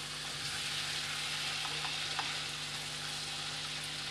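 Fried cucumber pieces stir-fried with spices in a pan for a Bengali cucumber curry, a steady close sizzle and frying hiss running throughout with faint stirring scrapes, no voices.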